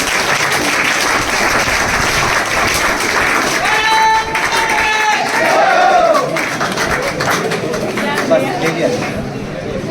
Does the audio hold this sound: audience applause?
yes